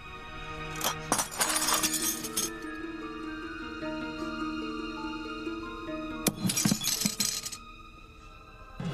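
A martini glass shatters in a TV soap opera scene, a sharp crash and tinkling of breaking glass with ringing shards, then a second burst of crashing glass over a sustained musical backdrop.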